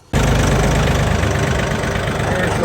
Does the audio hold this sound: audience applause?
no